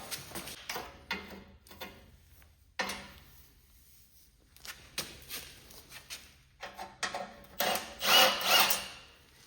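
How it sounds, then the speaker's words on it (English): Screws are backed out with an 8 millimeter tool on a machine already worked on by a mechanic, heard as close, intermittent bursts of ratcheting and metallic clicking separated by short pauses. "We're gonna take these screws out here. Takes 8 millimeter to take them out."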